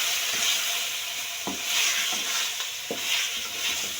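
Spices stirred into meat for palak gosht give a steady sizzle with rhythmic scraping strokes of a spoon against the pot, close and moderately loud.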